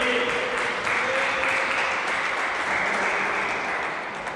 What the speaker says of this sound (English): Soaks in the applause of his teammates.